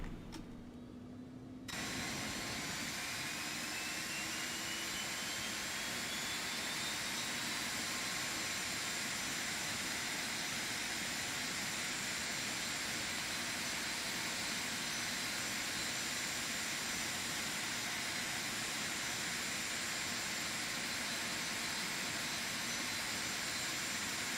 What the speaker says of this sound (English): both engines are firing up